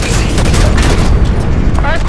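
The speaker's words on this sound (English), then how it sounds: "Earthquake! Watch your heads!" A deep, loud, continuous rumble from an earthquake in Halo 5: Guardians, with crackling, booming debris noise layered over it and a voice briefly shouting through the din.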